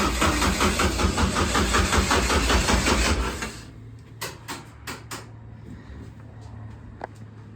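Race car in a race shop with the ignition switched on: a loud, steady mechanical whirring drone for about three seconds cuts off, followed by a few sharp clicks and knocks in near quiet.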